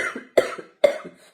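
Someone with a cold coughs three times in close succession, each a sharp, near burst with a short raspy tail, and silence falls between them.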